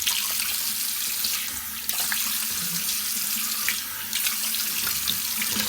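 Tap water runs steadily into a sink while a towel is washed to remove makeup and cleansing oil, a continuous close splashing stream with brief shifts as the cloth moves under the flow.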